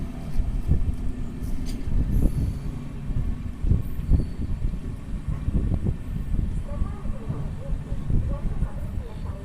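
A passenger express train eases to a halt at Madhira station, low rumbling and intermittent clanks of coaches up close, with voices talking over the noise.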